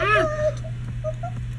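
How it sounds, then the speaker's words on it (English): A cat meows in the Minecraft video game, one rising-and-falling meow at the start followed by a few short tonal chirps over a steady low hum, close and fairly loud. "Cat."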